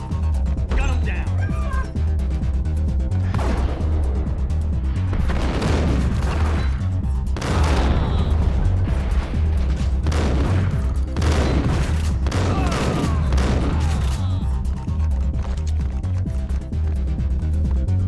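Sustained gunfire from the Max Payne video game, loud and dense bursts of shots and booms running throughout with a busy in-game soundtrack beneath, mixed with voices.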